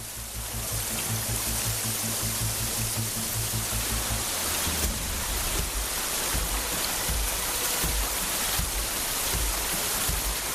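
A small stream flows in the Grand Canyon, a dense, steady rushing hiss of water that continues without pause, loud and close, with a low rumble underneath during the first few seconds.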